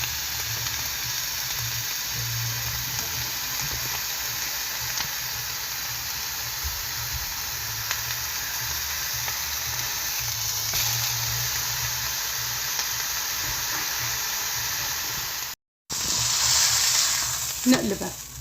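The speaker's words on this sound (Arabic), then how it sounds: "بعد ما خلصت مد اللحمة على الخبزة بنحطها هيك بهالشكل لحتى يستوي أول وش" Ground meat spread on flatbread sizzles steadily in a hot pan for Big Mac tacos, a loud, continuous close frying hiss that cuts out briefly and then resumes with a burst of crackling.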